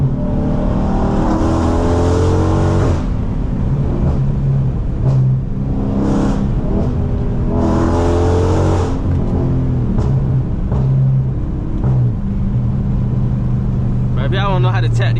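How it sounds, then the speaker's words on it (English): A car with JBA catless midpipes and an MBRP race exhaust revs hard several times, loud and close, each throttle blip rising and falling into a raspy idle while someone talks in between. "it's the Jba Catless Midpipe with the Mbrp race exhaust"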